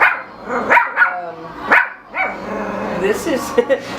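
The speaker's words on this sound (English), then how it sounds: "This is one of my 4 dogs that I have, and my dogs help me stay calm." One of four pet dogs barks in short, loud, close yips and bow-wows, several bursts spaced irregularly with whimpery tails and small gaps between them.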